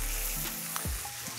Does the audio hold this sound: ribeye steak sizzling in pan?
yes